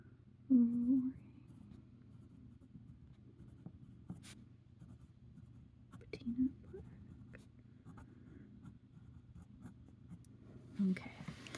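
A medium-nib Ferris Wheel Press fountain pen scratches softly across paper in slow handwriting strokes, faint and close, with a few louder moments from someone speaking quietly nearby.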